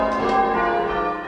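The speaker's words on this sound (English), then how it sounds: "We ring church bells every week," Church bells ring in a tower, with close, loud, overlapping tones that sustain and ring out with no voices present.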